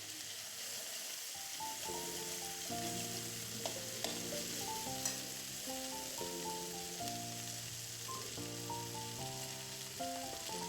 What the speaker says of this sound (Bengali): এরপর দিয়ে দিলাম আদাটাকে এই তেলের সঙ্গে কয়েক সেকেন্ড ভাজা করে নেব